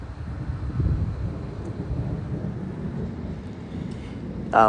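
Thunder from lightning in an Oklahoma storm rolls as a low, sustained rumble under wind noise and rain, with a brief burst of sound right at the end.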